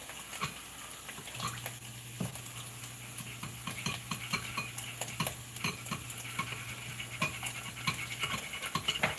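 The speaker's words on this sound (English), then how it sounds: "I'm just going to turn the peanut here so it can melt." Peanuts being stirred as they melt in a pot give a soft scraping, sizzling texture with irregular light clicks of the spoon, steady and close, with no talking.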